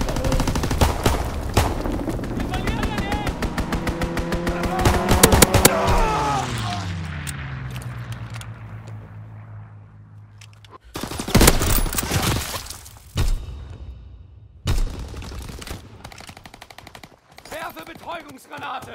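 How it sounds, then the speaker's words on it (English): Enemy aircraft strafing run in Call of Duty WWII: rapid machine-gun fire and an engine roar sweeping downward in pitch as the plane passes, followed by scattered loud bursts and impacts. "Enemy strafing run inbound."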